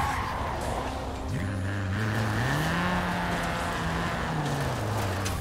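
In the racing game Forza Horizon 4, a rear-wheel-drive car engine drones and revs up and down through gear changes, a buzzy tone rising and falling in steps, close and fairly loud with some tire noise.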